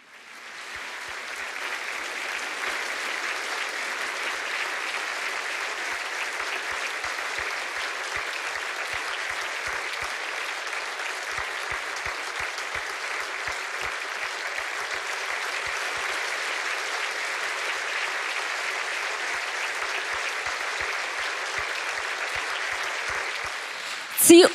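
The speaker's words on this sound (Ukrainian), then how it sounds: "Під ваші оплески, герої, вчинки яких нас вразили." Long, sustained audience applause for war heroes at a gratitude evening honoring Ukraine's armed forces, a dense, steady wall of clapping from a large crowd holding even loudness for over twenty seconds, swelling slightly at the end.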